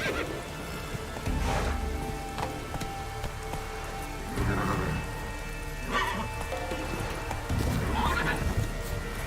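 Roach, Geralt's horse in The Witcher 3, whinnies several times while hooves trot beneath a steady patter of rain, close up, with a voice briefly heard.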